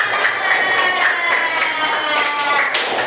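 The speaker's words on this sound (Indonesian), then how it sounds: "Oke, tepuk tangan semuanya." Schoolchildren in a primary school classroom clap their hands together in a loud, close burst of dense clapping mixed with children's voices.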